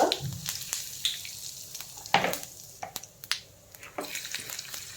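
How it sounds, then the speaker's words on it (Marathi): Cumin seeds and asafoetida crackle in hot oil in a kadhai, a close sizzling hiss broken by sharp pops and spits, with no talking. "तेल आपलं गरम झालं आहे त्यात मी सर्वात पहिले घालणार आहे जिरं"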